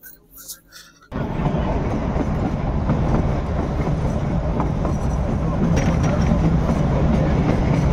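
The Shivalik Express toy train runs on the narrow-gauge Kalka–Shimla line, heard from inside a carriage as a loud, continuous rumble and rattle of wheels. It starts abruptly after a second of quieter sound.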